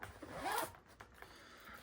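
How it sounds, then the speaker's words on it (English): Zipper on an Emersongear zip-on back panel pocket drawn in one quick, close pull, followed by a few faint rustles of fabric. "So now exiting this pocket just with this zipper here"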